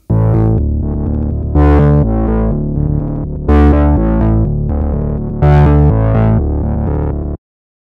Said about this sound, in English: Let's listen to a synth pad that I recorded.